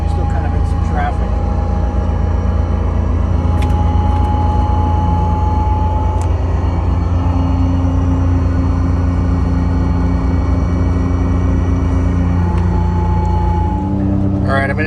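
Steady low rumble and drone inside bus 4106, fitted with a V730 transmission, cruising at 65 mph on the highway, with faint tonal whines rising and shifting over the constant road noise.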